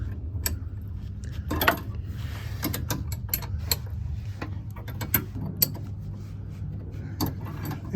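Brake line fittings being tightened on a Mk2 Golf GTI 16v during bias valve replacement produce scattered sharp metallic clicks and ratchet-like ticks, some in quick clusters, over a low steady hum with no speech.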